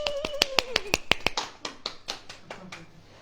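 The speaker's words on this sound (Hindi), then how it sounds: "अब ताली।" Rhythmic hand claps at a Hindi church gathering, about eight sharp, close claps in steady succession, then looser scattered claps and taps fading toward the end.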